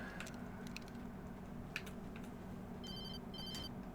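A mobile phone rings in the Alan Wake video game, sounding two short electronic trill bursts near the end over a steady low ambient hum with faint scattered clicks.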